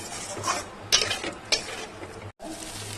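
Spice masala for jackfruit and prawn curry sizzles in a pan while a spatula scrapes through it in a few quick strokes, close and brief, with a short dropout near the end.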